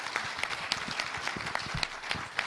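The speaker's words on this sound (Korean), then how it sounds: "이분들 힘내라고 큰 박수로 한번" Supporters at a party leadership candidates' speech event clap to encourage the candidates. The applause is fairly quiet and steady, with a few sharper claps standing out.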